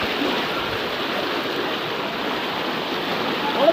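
Floodwater after heavy rain in Chandanaish, Chattogram, rushes past in a steady, broad hiss and roar, continuous and fairly close throughout with no break.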